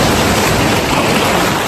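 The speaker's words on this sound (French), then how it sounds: "Il y a des vagues un petit peu, mais c'est agréable" Small sea waves wash steadily onto a sunny, windless beach in Tenerife, giving a continuous, even broadband surf hiss with no distinct breaks and no voices.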